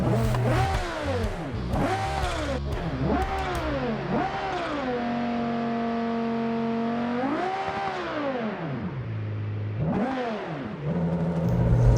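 A high-revving supercar engine in the BeamNG.drive video game screams through repeated rising and falling revs, then holds a steady high pitch before dropping and climbing again, loud and close.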